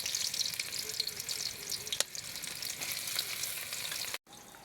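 Onion dropped into hot oil in a wok on a village kitchen stove, producing a bright steady sizzle close by with one sharp clink, ending in an abrupt cut.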